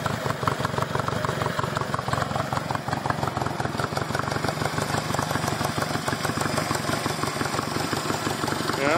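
A 1963 Honda Benly Dream CA95 motorcycle engine idles up close, a steady, even put-put of fast firing pulses that holds without change throughout.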